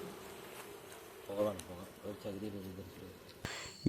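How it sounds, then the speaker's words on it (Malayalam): Agitated honeybees buzz steadily in the background at a bee farm while a person speaks, ending with a sharp clatter. "ഈച്ചകൾ വയലൻ്റ് ആയതിൻ്റെ സൗണ്ട് വരും"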